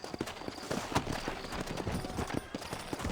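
Rhythmic clip-clop of horse hooves trotting at a steady pace in the video game Red Dead Redemption, fairly close, with faint background sound.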